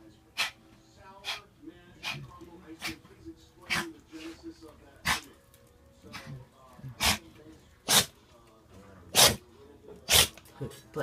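A dog sneezes repeatedly, each one a sharp burst, about a dozen spaced roughly a second apart, close and loud, with snorting breaths between and a person speaking softly in the background.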